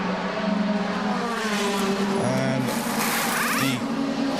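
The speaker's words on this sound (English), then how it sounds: "the orange and white car, a long run down to his pit box" A DTM race car, orange and white, runs a long way down the pit lane at Hockenheim, its engine droning steadily near and loud with shifting pitch, under faint background commentary.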